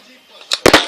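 A working LEGO toy gun fires a shot: a quick burst of two or three sharp, close plastic snaps and clicks after near silence.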